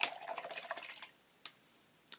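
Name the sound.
paintbrush rinsed in clean water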